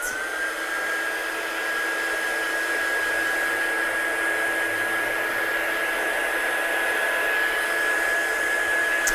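A hair dryer blows steadily on stamped lamination, a loud continuous whirring hiss with a high whine that holds unbroken from start to finish with no talking.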